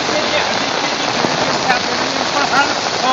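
Heavy monsoon rain pours steadily on a flooded cricket ground in Jamnagar, a loud dense hiss with scattered close splashes throughout.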